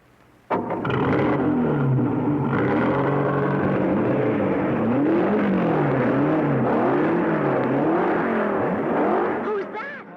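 Cartoon race car engines roar to life at the start of a Speed Racer race, a loud, dense blare of several motors revving and wavering together, cutting off abruptly near the end.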